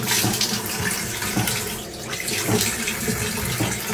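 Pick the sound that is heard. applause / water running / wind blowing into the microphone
water running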